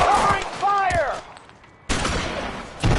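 Gunfire in the video game L.A. Noire, set in 1947 Los Angeles: loud bursts of shots open the clip, a short lull follows with a voice, then another dense burst of shooting starts near the end.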